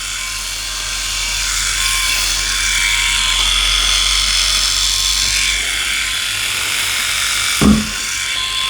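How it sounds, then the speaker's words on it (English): Philips i9000 Prestige electric shaver cutting against the grain, a steady close buzzing hum with fine crackling of stubble, continuous throughout with a brief louder knock near the end. "Let's make sure I've got the right shaver."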